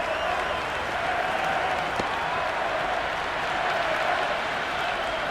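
A virtual stadium crowd at an Ashes Test in the cricket video game Cricket 26 keeps up steady applause and cheering, a broad, even wash of noise.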